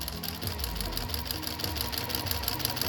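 Close and steady, a sewing machine stitches the seam of a face mask cover with a continuous fast rhythmic whirring and no pauses.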